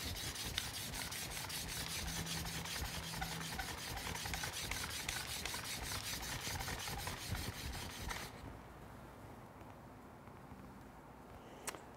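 A card scraper's edge filed on a sharpening block in a woodworking shop, rapid rhythmic rasping strokes repeating closely for about eight seconds, then stopping into quiet with a faint final scrape.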